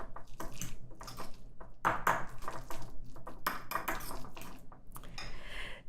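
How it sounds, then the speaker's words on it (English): Chopped dill is tossed and mixed in a bowl, heard as irregular clinks and scrapes of a utensil against the dish, close and moderately loud, with no voices. "we're just gonna cut up the dill and place it into the same bowl. And just mix it all together."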